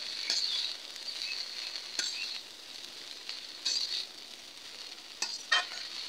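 Koloi greens stir-fry in a pan, a soft steady sizzle broken by bursts of scraping and stirring every second or so, moderately close and with no talking.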